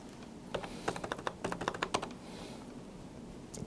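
Amounts are typed into accounting software on a computer keyboard. A quick, uneven burst of close, crisp keystrokes clusters in the middle of a quiet moment, and one last tap follows near the end. No one speaks.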